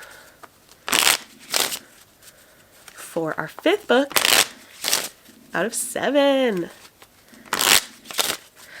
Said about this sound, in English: with no prompt to replace, we'll just put that jack right back in there. And we'll shuffle